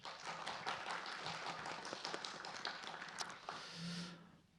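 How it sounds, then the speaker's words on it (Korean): An audience at a green-building forum gives sustained applause to welcome the forum chair, a dense patter of clapping that tapers off near the end. "여러분 큰 박수로 환영해 주시기 바랍니다."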